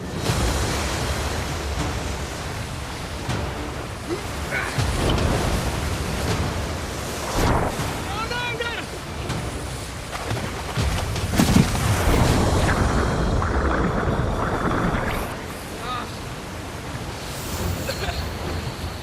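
River rapids on a Kamchatka expedition rush loudly and steadily over jagged rocks, a broad continuous roar with surging swells and splashes close to the microphone.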